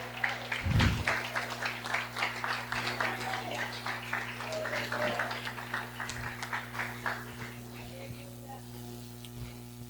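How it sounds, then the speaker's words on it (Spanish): Church congregation applauding during a Sunday worship service, a dense wash of clapping hands strongest at the start and then sustained with a steady hum and music beneath. "Dale un aplauso fuerte a Jesús."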